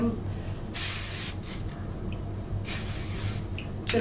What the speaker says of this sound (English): hairspray it down, and do the same for the other side.